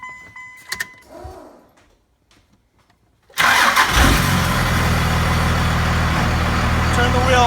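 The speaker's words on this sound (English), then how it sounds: "we're going to go ahead and start the truck up." A Dodge truck with a hydroboost brake system cranks and fires up abruptly after a few quiet moments and faint talk, then settles into a loud, steady, rumbling idle close by.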